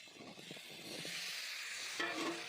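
Tomatoes stirred in a pan for a cabbage curry, a faint, steady sizzle with soft scraping strokes and a brief clatter near the end, quiet and close, with no talking.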